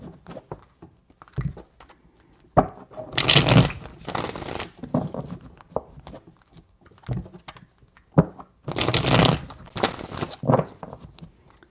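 Tarot cards are shuffled in a few separate bursts of riffling and flicking, close and soft, with quiet gaps and small taps between them and no one talking.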